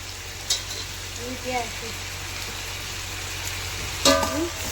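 Ginger-garlic paste sautés in a pan for biryani, a constant soft sizzle and frying hiss, with brief stirring scrapes and a few spoken words over it.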